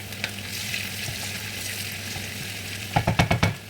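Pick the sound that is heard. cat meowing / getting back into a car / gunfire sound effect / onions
onions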